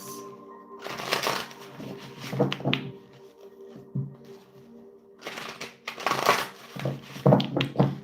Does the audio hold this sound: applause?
no